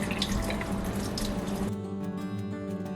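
Water splashes from a tap and is sprinkled over soaked odiyal (palmyra root) flour while making odiyal kool seafood soup, a steady close running-water rush that cuts off abruptly, leaving a faint hum.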